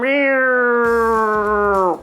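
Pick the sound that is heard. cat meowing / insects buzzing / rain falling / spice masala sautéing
cat meowing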